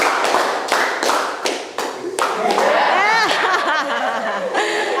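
A class claps hands in brisk rhythmic counted bursts, then breaks into chatter and laughter, loud and close.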